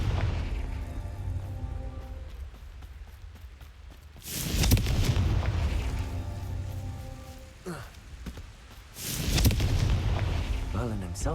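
A Confringo blasting spell from the Hogwarts Legacy video game bursts twice as loud, broad explosive blasts over a steady rumbling game soundtrack, with softer crackling between.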